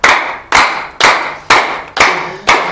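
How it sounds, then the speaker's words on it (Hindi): Six sharp, loud claps at an even half-second pulse, many hands striking together in unison, each ringing briefly before the next. "चलिए और ताली एक साथ बजेगी"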